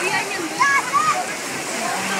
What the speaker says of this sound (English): You can't wash it out with this million gallons of water!